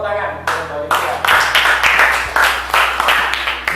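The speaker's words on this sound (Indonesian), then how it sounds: "Tepuk tangan." Classroom students clapping in unison after a group's presentation on convex and concave mirrors, rhythmic claps repeating about every half second, fairly loud and close, with faint voices in the room.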